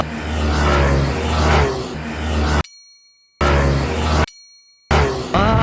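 A Yamaha Aerox 150-160cc scooter engine accelerates, a loud rising drone that cuts out abruptly in two short gaps before resuming, with a brief metallic ding near the end.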